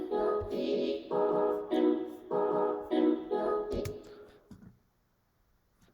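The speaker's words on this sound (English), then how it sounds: "So that's the melody I made with the chops." A trap-beat melody built from chopped vocal samples plays up close, with bursts of choppy, pitched vocal syllables in a rhythmic pattern that fade into silence near the end.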